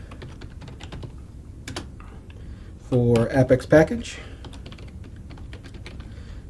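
Quick bursts of computer keyboard typing, used to enter PowerShell commands, rattle out in a short dense flurry of close key clicks. Someone talks before and during it.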